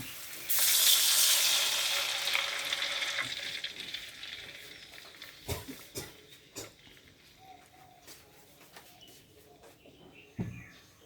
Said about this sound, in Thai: พอพริกกับกระเทียมหอมแล้วนะคะ เราก็จะใส่ น้ำลงไปนะคะ3ส่วน4ถ้วยตวง